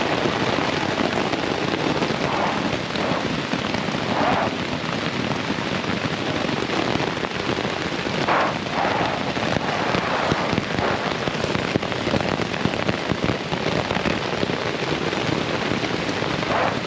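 Heavy rain pours steadily on the Appalachian Trail in Pennsylvania, a dense, continuous hiss of drops drumming on surfaces nearby, with no voices and no break for the whole stretch.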